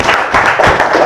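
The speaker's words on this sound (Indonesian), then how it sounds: "Oke, kalau tepuk tangan untuk semua kelompok." A classroom group claps their hands together in a brief, loud burst of quick overlapping claps.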